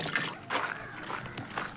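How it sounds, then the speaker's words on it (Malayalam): Water trickles and splashes steadily into a tank being filled during tank cleaning, a close, continuous liquid pour with small sloshes and bursts, heard without talk. "അപ്പോൾ നമ്മൾ വെള്ളം നിറയട്ടെ."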